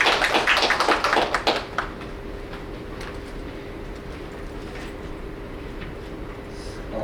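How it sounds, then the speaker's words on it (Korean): A symposium audience claps for a speaker being invited to the stage at a startup-regulation forum, a brief burst of many hands in the opening second and a half that quickly dies away to quiet room tone. "큰 박수 부탁드립니다."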